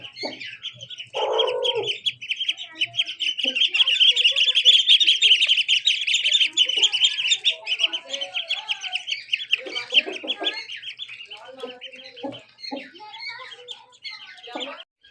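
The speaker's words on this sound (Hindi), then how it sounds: "इसके अंदर इनको छोटे जो चूज़े पड़े हैं ना, 3-4 ही हैं, 3 हैं" A few small duck chicks chirp continuously in a village setting, a dense, high, close-up peeping that runs throughout, with a brief lower cluck and faint voices in the background.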